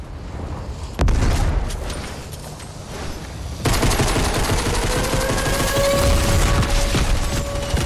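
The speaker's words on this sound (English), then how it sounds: "Throwing all these bombs like this." Bombs and gunfire in the video game Fortnite: a sharp boom, then a dense, loud continuous barrage of blasts and rattling fire that fills the rest, with no talking.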